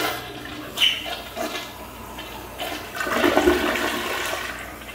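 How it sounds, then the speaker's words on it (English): An American Standard Cadet toilet fitted with a universal hardware-store flapper flushes, with a rushing swirl of water that surges once and then again in a second flush, heard close by in a quiet room. "It flushes twice."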